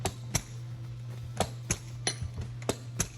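A carpet knee kicker is pushed along to stretch carpet over the pins of a tack strip. About eight sharp thumps land at uneven intervals over a steady low hum. Nobody speaks.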